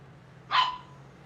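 A single sharp dog bark rings out near the microphone, brief and clear above a low steady hum, during commentary on a Chicago Grand Prix race.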